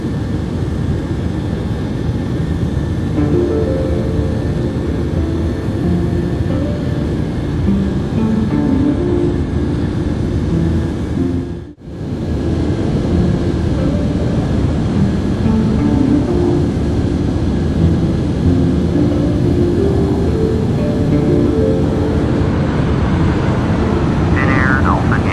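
Finnair Embraer ERJ-190 jet taxiing to its stand in Microsoft Flight Simulator X, a loud continuous engine whine and rumble from the simulated cockpit, briefly dipping once before resuming at full level.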